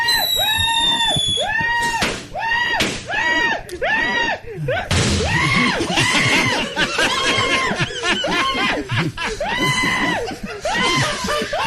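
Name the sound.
recorded person screaming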